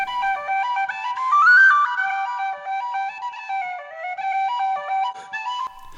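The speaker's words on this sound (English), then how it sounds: "Buckley's Fancy Reel, played on a tin whistle." A tin whistle plays Buckley's Fancy Reel, a brisk run of bright, clear notes with quick ornaments and a steady dance rhythm, recorded close on a phone, solo with no accompaniment.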